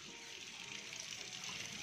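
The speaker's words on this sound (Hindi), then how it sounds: "कपड़े डालने शुरू कर दिए है मशीन में, पानी भर रहा है पहले इसमें" A washing machine at home filling with water, a steady hissing gush of running water at moderate level, continuous with no speech over it.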